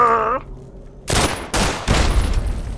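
Three sharp, loud gunshots crack in the video game Fallout 3, spaced at irregular intervals, each leaving a brief echoing tail, after a short tonal game cue.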